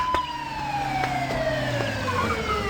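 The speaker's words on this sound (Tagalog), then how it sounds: "Addan ti ambulansya." An ambulance siren wails steadily with repeated rising and falling tones, fairly loud and continuous with no speech, as in a radio drama scene.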